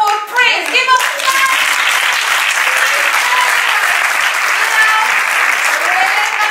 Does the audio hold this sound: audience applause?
yes